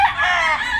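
A rooster on a backyard farm gives a single short, loud, close crow that ends quickly.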